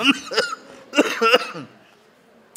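A person coughs several times in two short bursts, close and fairly loud, then falls quiet.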